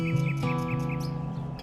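Birds sing at a paragliding site in Bir-Billing, with repeated bright chirps in a quick regular series over a steady tonal drone, fairly close and without talk.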